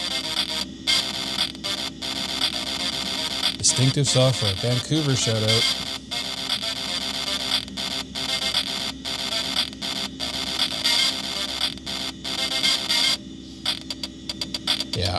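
Crude digitized game audio from a Commodore 486 PC's built-in speaker, using RealSound, plays as a harsh, buzzy, continuous tone with a brief melodic burst, while a voice talks over it.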